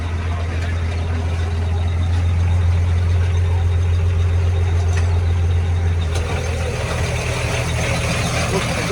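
An old, high-mileage Volkswagen engine runs at a steady low idle with a deep, constant rumble close by, while people talk over it.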